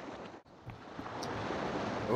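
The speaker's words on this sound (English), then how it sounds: "I hear the ocean." Ocean surf rolls as ambient sound in the video game Valdis Story, a soft, steady rushing wash that swells slightly toward the end.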